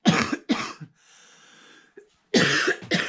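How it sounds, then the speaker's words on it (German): A man coughs in two close, loud bursts of several hacks each, with quiet breathing and a small throat noise in the pause between. "Wenn ich immer mal ein wenig husten tue."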